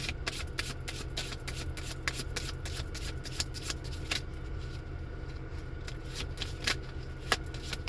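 A deck of cards is shuffled close up, with rapid crisp riffling and sharp flicking snaps over a steady low background hum, no voices.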